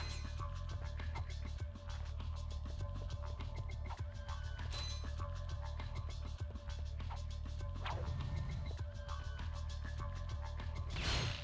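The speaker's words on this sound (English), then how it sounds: "we're picking up all these bolts and nuts and that" Metallic clinks and rattles of bolts and nuts being collected in Ratchet & Clank on PS2, a steady stream of small mechanical ticks and clatters over a continuous low game hum.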